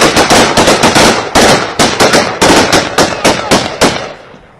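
Rapid bursts of gunfire crack out close and loud in quick irregular volleys, a dense string of sharp shots that trails off at the end.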